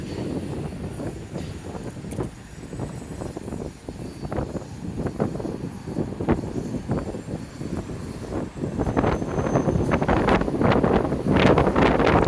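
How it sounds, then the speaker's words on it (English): Heavy wind buffeting the microphone in gusts, low rumbling bursts that grow stronger and steadier toward the end, with no voices. "Wow, is it ever windy?"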